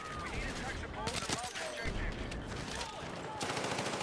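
Rapid bursts of gunfire in Battlefield 6, dense and continuous across the whole stretch, with overlapping shots and sharp cracks at close range.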